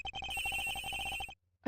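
Ringing from a phone in a cargo hold in the Ace Attorney Investigations video game, a fast repeating electronic bell that runs loud and steady, then cuts off abruptly into near silence.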